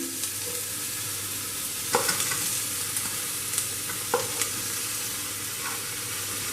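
Chopped vegetables hit golden-brown onions frying for a foxtail millet khichdi, giving a steady sizzle with a few scraping stirs and light utensil taps.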